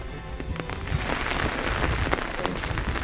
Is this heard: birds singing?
no